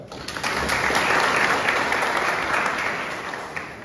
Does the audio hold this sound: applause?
yes